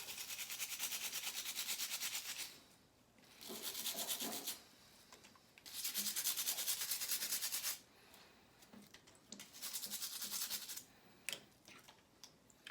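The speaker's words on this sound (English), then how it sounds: "you're just going to give it a quick little scrub" Quick scrubbing of calcium buildup inside a faucet aerator, heard as close, raspy brushing in several bursts with short pauses between them, no talk over it.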